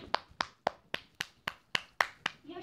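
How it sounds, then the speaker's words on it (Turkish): Sharp, evenly spaced claps, about nine in a steady rhythm, sound close and dry with no talking. "Alkış."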